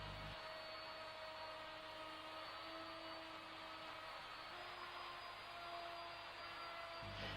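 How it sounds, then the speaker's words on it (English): A router guided along a jig cuts through a laminated kitchen worktop, giving a loud, steady, high-pitched whine with a continuous cutting roar that starts abruptly and runs unbroken until it stops just before the end. "The cut is then made, holding the router firmly against the jig at all times."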